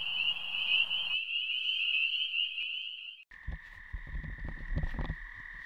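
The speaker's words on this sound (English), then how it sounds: "there's some high-pitched trilling or high-pitched screams going on over by the culvert under the highway" A toad near a highway culvert gives a sustained high-pitched trill that stops abruptly, followed after a brief gap by another trilling call mixed with clicks and rustling.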